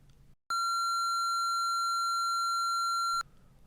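A steady square wave tone without aliasing, generated in Audacity, holds one pitch for under three seconds after a brief pause. It sounds loud and buzzy against near silence, and its evenly spaced partials carry no extra tones.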